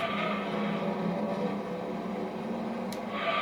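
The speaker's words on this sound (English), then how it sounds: "this car has a very, very, very low engine note" A car engine in the racing game Gran Turismo 2 with a very low engine note drones quietly and steadily, faint and even throughout with a slight rise near the end.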